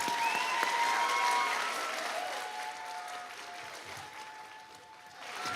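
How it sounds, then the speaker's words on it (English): Applause from a school gym audience after a pop hits concert by student orchestras fills the whole stretch, a dense steady wash of many hands that thins slightly toward the end, with faint tones ringing above it. "let's give one final round of applause for all these performers"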